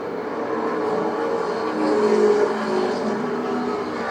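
Xfinity Series race cars at Watkins Glen roar past nearby, a steady engine drone that swells briefly mid-clip and holds loud throughout.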